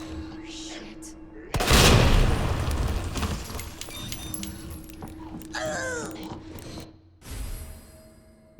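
A grenade detonating in Resident Evil 2 Remake, a loud booming blast that rumbles and fades over a few seconds amid game effects, followed by someone talking.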